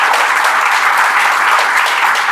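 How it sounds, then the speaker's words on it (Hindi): A crowd of people claps, a dense steady round of applause heard close and loud from start to finish without speech. "ताली बजा दी यार।"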